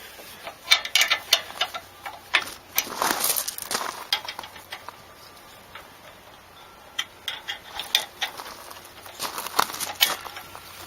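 A 9/16 wrench works a grease fitting on the pivot plate of a John Deere 260 backhoe, giving irregular close metallic ticks and clicks, ratchet-like, scattered over a quiet outdoor background.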